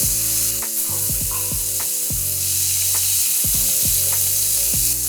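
A burger patty frying on a bed of onions in a pan, a steady close sizzle under a low, pulsing musical background with no voices.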